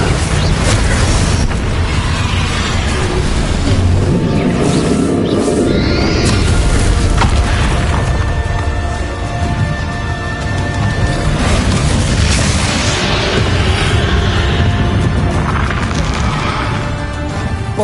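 Confringo spell blasts in Hogwarts Legacy, repeated loud booming explosions and crashing impacts in a continuous dense fight, close and powerful with no talk.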